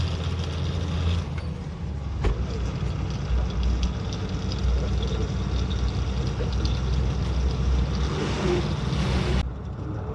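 A car engine drones low and strains while the vehicle labours to gain speed on a forest road. The rumble stays steady and close, with road and wind noise laid over it.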